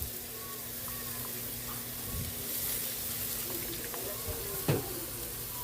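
Tomatoes simmering in a pan as a splash of water and fish sauce (patis) go in, giving a steady close sizzle and bubbling hiss with a brief splash near the end and faint talk in the background.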